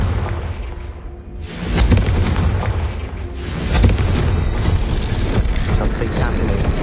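A Confringo fire spell blasts in the Hogwarts Legacy video game, two loud booming bursts near 1.5 and 3.5 seconds that roll into sustained rumbling crackle over game music.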